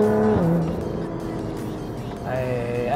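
A Lotus Evora GT engine revs hard through a downshift while accelerating, the tone dropping sharply, settling into a lower growl, then climbing again near the end; loud and close, with someone talking under it.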